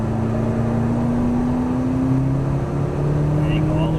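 A McLaren MP4-12C accelerates out of a corner on the Exotics Racing track in Las Vegas, its engine note climbing steadily and evenly, heard from inside the cabin over constant road and wind noise.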